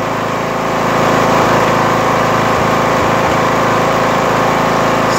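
A lawn mower engine running steadily at close range after a leaky carburetor, with fuel remnants burning off in the muffler. It holds an even, buzzing drone throughout.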